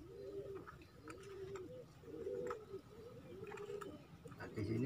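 Lovebirds in an aviary give repeated soft cooing calls in a steady rhythm, with faint chirps above and a low background rumble; the calls are moderately close and not loud.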